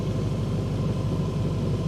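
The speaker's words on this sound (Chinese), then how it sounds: "它有一个最大排气模式声浪，还有一个动态排气模式声浪。" A Great Wall Soul eight-cylinder car in maximum exhaust mode gives a loud, steady, deep rumbling burble, close and continuous with no speech.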